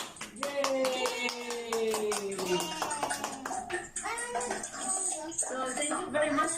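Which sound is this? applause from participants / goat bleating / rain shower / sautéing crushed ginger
applause from participants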